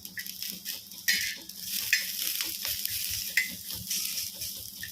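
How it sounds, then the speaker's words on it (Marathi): Garlic and ginger fry with onion in a pan for stuffed brinjal, a close steady sizzle broken by repeated stirring scrapes and spatula taps, no talk. "अद्रक लसूण चांगलं भाजून घेऊया आपण"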